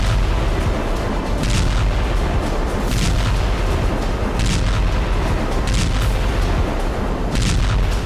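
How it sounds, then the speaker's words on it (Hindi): Dense, continuous rumbling with repeated heavy booms and bursts from Russian strikes in Odesa, Ukraine, like sustained distant shelling, loud and unbroken throughout. "ओडेसा में रूसी फौज ने इतने धमाके किए कि यूक्रेन की कई पोजीशन धुआं हो गई"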